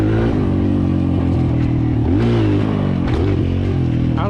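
Kawasaki KLX 140L dirt bike engine revving loudly and close, the pitch rising and falling through throttle blips with a steady rough exhaust drone running throughout.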